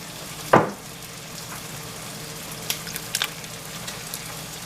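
Diced tomatoes tumble into a pot of quick spaghetti sauce in one brief soft splash, followed by a few faint clinks and light sizzling in a quiet kitchen.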